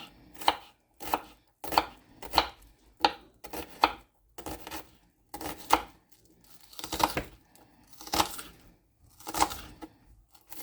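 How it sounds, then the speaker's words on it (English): A knife chops about a quarter of a small red onion finely on a cutting board in a rhythmic series of crisp, close taps, grouped in short bursts with brief gaps and no talking. "I'm just going to put a little bit of red onion. And I'm going to cut it as small as I can."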